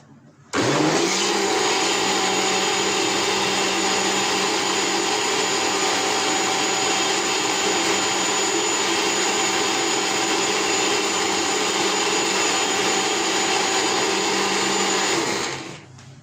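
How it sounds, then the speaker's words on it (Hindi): A kitchen blender purees mango for homemade mango gelato, its motor starting abruptly and holding a loud, steady whirring drone for about fifteen seconds before cutting off, with no voices. "We have to blend it quite well."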